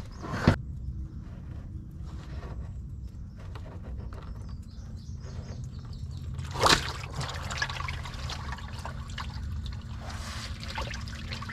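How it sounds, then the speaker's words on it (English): Oil draining from the case of a Caterpillar 977 track loader left sitting for years, a faint steady trickle and dribble with occasional drips and a couple of sharp metallic knocks, no voices. "There should be a good bit of oil comes out of this case here."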